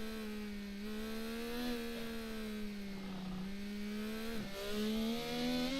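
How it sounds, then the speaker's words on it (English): An IndyCar race engine screams at high revs, its steady pitch wavering and then dropping sharply as the driver lifts off the throttle, before climbing again; loud and continuous with no talk. "we could hear the change in the engine"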